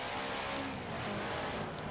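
A bright red Subaru racing in the video game Forza Horizon 4, its engine a steady loud drone with road and tire noise, no voices over it.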